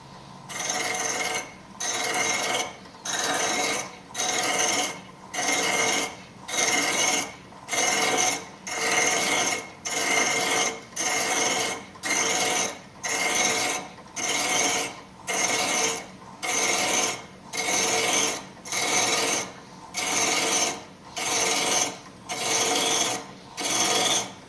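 A wood lathe cuts double threads into a turning wood piece at half speed. Regular rasping cutting strokes repeat steadily about once a second, each one cut off by a brief gap, and the cutting stays close and loud throughout.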